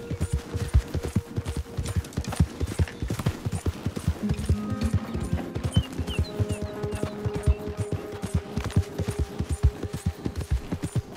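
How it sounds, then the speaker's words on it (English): Hooves of a galloping horse in Red Dead Redemption 2 pound out a fast, steady clip-clop close by, with game music and ambient tones sounding faintly behind. "Isso aqui a gente vai de cavalo mesmo."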